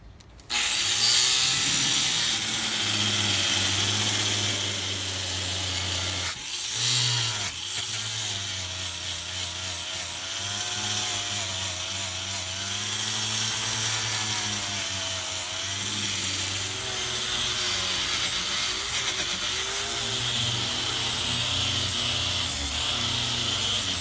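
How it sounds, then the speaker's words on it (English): A wire brush scrubs surface rust on the body of a Yukon in long, steady abrasive strokes that run loud and close almost without a break, with one short pause partway through. "I'm gonna use the wire brush to scuff up the surface rust"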